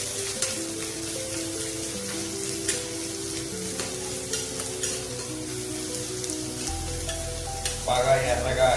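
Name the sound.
onions frying in oil in a kadai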